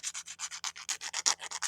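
Rapid rhythmic sanding strokes along the edges of a birthday crown, a steady back-and-forth scratching repeated about eight times a second, close and clear with no talking.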